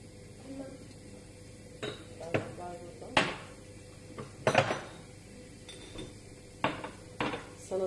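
Sugared tea glasses and dishes are handled in a home kitchen, giving several sharp, scattered clinks and knocks, fairly quiet against a soft background.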